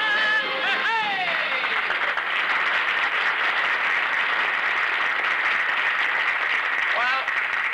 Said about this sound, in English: the applause was scattered but sincere